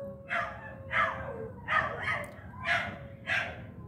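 A dog barks five times at a steady pace, each bark sharp and mid-distance, with a constant low background hum between them.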